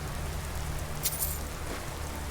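Steady rain falls in the fantasy video game Skyrim, a dense even hiss with a low background rumble and a couple of faint brief ticks, continuous throughout with no voices.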